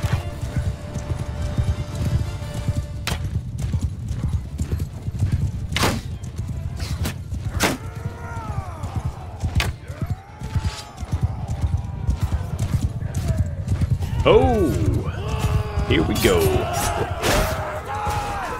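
Horses gallop in a steady drumming clip-clop through a battle in Mount and Blade II: Bannerlord, with repeated whinnies, distant crowd shouts and war cries layered over the continuous hoofbeats, loud and sustained.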